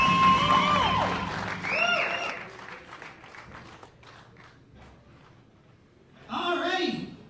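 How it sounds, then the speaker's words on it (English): Applause from a small pro wrestling event crowd after a debut match, bursts of clapping that fade into scattered claps and murmur, then a fresh swell of cheering and whooping near the end. "Crowd showing their appreciation for the effort of this young man."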